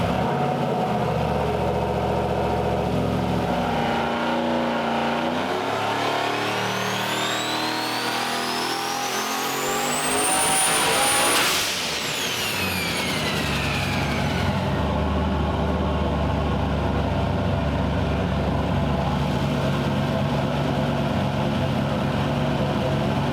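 A Chevrolet S10 pickup with a built engine and a bigger turbo runs on a chassis dyno, climbing in a long loud rising rev with turbo whine to a peak. It drops off sharply, then settles into a rumbling idle with whistling spool-down. Nobody speaks.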